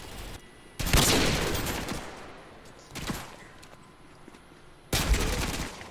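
Gunfire in the VR shooter Contractors VR during sniping play: three loud, sharp bursts spaced about two seconds apart, each decaying into a rough tail over low background game noise.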